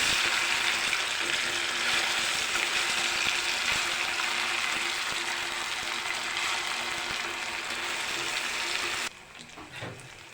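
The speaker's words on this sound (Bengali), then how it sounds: "আমি দোনো পাশ উল্টে পাটে খুব সুন্দর করে ভেজে নিয়েছি" Magur fish fry in a small pan with a steady, close sizzle and crackle that holds for about nine seconds before cutting off to quieter kitchen clatter.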